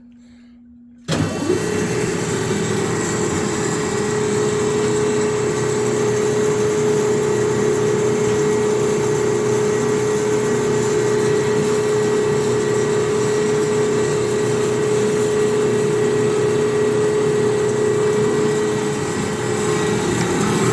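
A rebuilt Marvel 15-6 semi-automatic horizontal band saw starts abruptly after a brief quiet moment, then runs with a steady, loud motor hum and a constant tonal whine, no talking.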